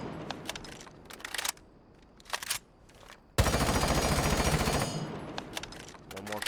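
Automatic rifle fire from Rainbow Six Siege with a compensator fitted: short bursts early on, then a long sustained loud stream of rapid shots, tapering into a few closing bursts.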